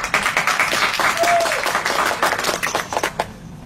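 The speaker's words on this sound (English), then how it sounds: "appreciate everyone keeping the applause down" Audience applause at a state legislative transportation committee hearing, a burst of many hands clapping at once, loud and fairly close, thinning out toward the end.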